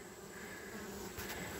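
Honey bees buzz at an Apimaye hive opened for inspection, a dense, steady, close drone of many wings with no voices over it.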